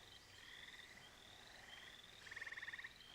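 A chorus of frogs croaks and trills continuously in a steady rhythmic pattern, with a louder, closer pulsed call near the end standing out above the rest.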